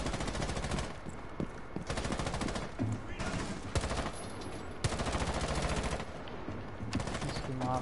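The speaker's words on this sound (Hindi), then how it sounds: "मैंने सारी गोलियां मिस कर दी।" Rapid automatic gunfire from the video game Rainbow Six Siege, several loud sustained bursts separated by short pauses, with game sounds in between and no clear talk.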